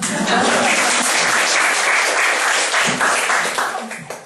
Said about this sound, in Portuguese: A Helena merece aplausos.